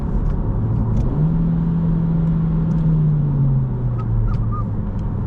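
A Honda Civic Si engine revs up while driving, a steady low drone climbing into a sustained higher pitch for a few seconds, then easing back down, loud and close.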